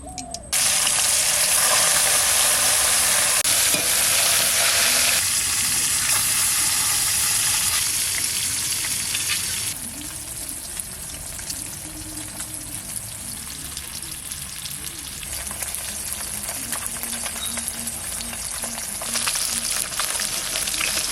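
Loud, steady sizzle of frying in hot mustard oil while cooking rui fish, a dense hiss that runs continuously throughout, dropping slightly in level midway, with occasional faint stirring.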